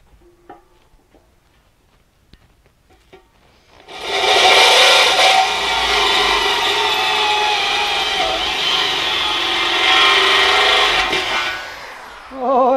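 A loud, steady grinding rasp of a bimetal drill bit boring through a steel beer keg starts after a few quiet seconds and runs continuously for about eight seconds before stopping.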